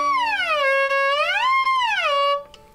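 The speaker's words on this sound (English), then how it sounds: "You actually move your fingers up and down the fingerboard like this, and it makes a cool sound like this" Violin glissando, fingers sliding along the fingerboard so a bowed tone swoops smoothly up and back down, loud and close, alone before fading out.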